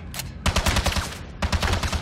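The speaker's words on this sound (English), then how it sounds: "Keep firing!" Rapid automatic gunfire bursts in the video game James Bond 007: Blood Stone, two clipped volleys separated by a short pause, loud and close.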